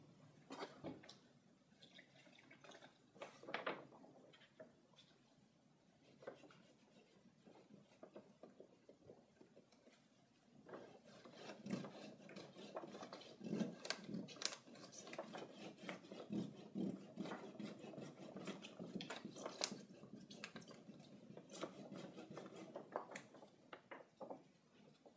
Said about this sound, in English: I'm going to do is just use some soap and water and just scrub that off